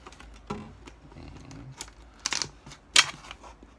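A sharp knife slicing through a plastic PET bottle, giving a few scattered crackling cuts and scrapes, with two louder crunchy bursts near the end, close and fairly quiet, with no talk.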